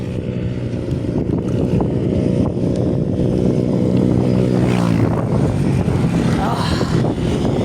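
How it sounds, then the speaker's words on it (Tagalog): Strong wind rushes across open farmland and buffets the microphone in a constant loud roar, with a low rumbling drone running underneath throughout and no clear talk. "malakas ang hangin."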